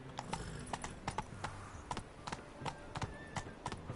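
A horse's hooves clip-clopping in The Witcher 3, a steady quick trot of hoof strikes over a dense game ambience, with no speech.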